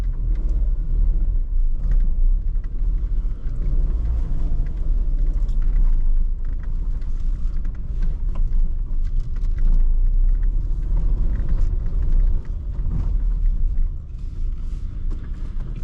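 A 2025 Tata Nexon drives along a road, heard from inside as a steady, loud low rumble of engine and road noise with faint creaks, easing slightly near the end.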